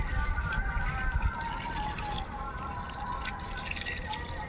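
Water trickling and dripping as it drains straight through rice husk in a potted rose plant, a steady close wet patter with no pause.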